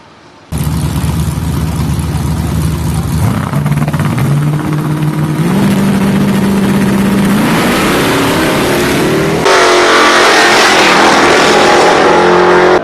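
Drag race cars roar loudly as they accelerate down the asphalt lanes, engine notes climbing in stepped pitch through the gears before a second, brighter surge of engine noise takes over near the end.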